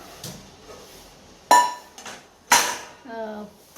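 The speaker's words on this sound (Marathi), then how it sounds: "चला आता भांडी पण आवरून घेते" Dishes being washed: a few sharp clinks and clatters of plates and utensils spaced out, with quiet rustling in between.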